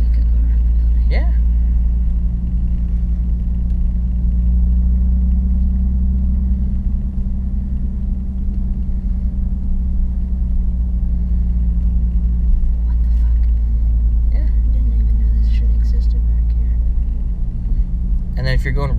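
A Lexus IS300 with a manual gearbox cruises slowly in second gear, giving a steady low engine drone and road rumble inside the cabin, with occasional voices and small clicks over it.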